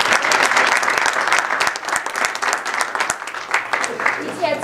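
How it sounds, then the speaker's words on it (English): An audience claps steadily for a school coach, a dense, loud burst of applause with scattered voices and cheers mixed in throughout. "Can we give a round of applause to the coach"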